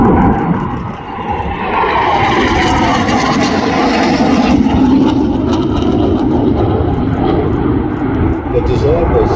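Saab J35 Draken jet in afterburner during an air festival display, a loud continuous roar that swells and holds steady throughout, with a voice talking over it.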